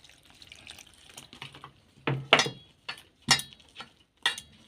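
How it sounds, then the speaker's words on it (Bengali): Water is added bit by bit to besan batter being mixed by hand for a fritter recipe, heard as soft splashes and wet squelching slaps in a short irregular series, close and fairly quiet. "এবারে অল্প অল্প জল দিয়ে মাখাতে হবে।"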